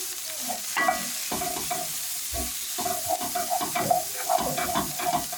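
Onions fry in oil left from meat in a pan, a close, loud sizzle broken by repeated scraping and stirring strokes of a spoon against the pan. No one speaks.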